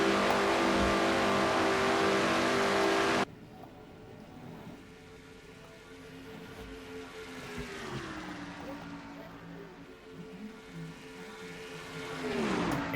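Stock cars in a sim racing game, an engine drone that shifts in pitch as the cars sweep through a turn, with a louder burst at the start and a commentator talking throughout.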